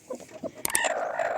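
A hen on a village farm with young chicks gives a few soft, close clucks, then a sharper, louder call that trails off.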